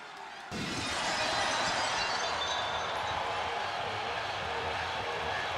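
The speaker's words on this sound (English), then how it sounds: "That sound of breaking glass is the prelude to a beatdown." Breaking-glass entrance in WWE 2K25: a sudden loud shatter bursts in after a brief quiet moment, followed by a sustained wash of noise like a roaring arena crowd.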